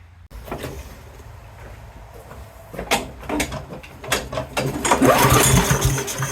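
A primed Briggs and Stratton lawn mower engine with a suspected carburetor fault is cranked, giving a series of rough pulls and sputtering bursts that grow louder and denser toward the end without catching.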